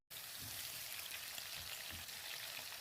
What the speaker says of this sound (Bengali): এলাচ, দারচিনি সমস্ত কিছু আমি তেলের মধ্যে দিয়ে দেব। ফোড়নটা একটু ফুটে উঠলে